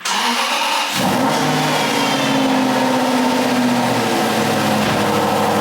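Aston Martin Vantage engine cranking and firing up after a quiet start, then settling into a steady, loud running note with slight rises in revs.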